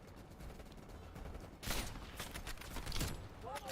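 Machine gun fire in Call of Duty Black Ops crackles in dense, rapid bursts that grow louder partway through, close and harsh against a busy game background.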